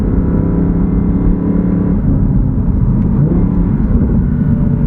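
A steady, loud engine drone with a low rumble runs throughout, like a car cruising at speed heard from inside the cabin of a rear-wheel-drive Audi R8 V10 sports car.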